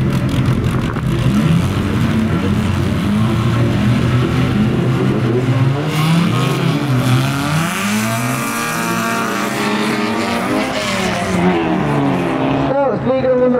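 Cars, including a pickup, race on a winter auto show track. Engines roar loud and close throughout, revving and shifting pitch as they accelerate, while an announcer talks over the noise.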